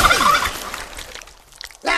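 A turkey gobbles loudly up close, a rapid warbling burst that fades into quieter rustling and ends with a short noisy sound.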